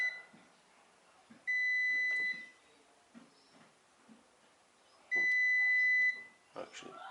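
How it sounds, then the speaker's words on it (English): A multimeter on continuity test sounds two steady electronic beep tones, each lasting about a second, while probing a faulty Xbox 360 Elite power supply. Quiet talk and handling noises come between and around the beeps. "There's the buzz. So this continuity test."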